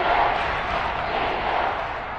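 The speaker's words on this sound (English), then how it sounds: "Crowd getting in it a bit already" A stadium crowd in a PS5 American football video game roars and cheers steadily throughout, a dense, continuous wash of many voices at a fairly loud level.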